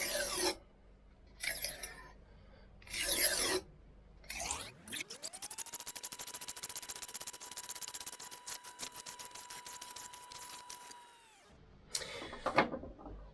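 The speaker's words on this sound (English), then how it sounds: "Now we'll do 30 edge trailing strokes and we'll see where that leaves us." A knife edge is drawn in trailing strokes across a ceramic sharpening stone, giving short, quiet raspy scrapes in separate bursts. A steady mechanical whine fills the middle stretch between the strokes.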